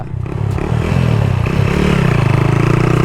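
A modified motorcycle engine roars loud and close during a test ride, its revs climbing steadily under a rattling clatter, with a slipping clutch on a bike using three injectors.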